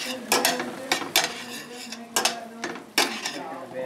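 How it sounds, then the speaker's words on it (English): Vegetables tossed in a metal pan on a home stove, giving a run of sharp clattering clinks and scrapes, close and fairly loud, in irregular bursts with a faint sizzle between them. "Give my veggies a quick toss."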